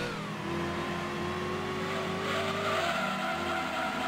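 A race car engine with an exhaust upgrade revs and shifts in Gran Turismo 2 on the PlayStation, a loud, sustained drone with rising and falling pitch sweeps.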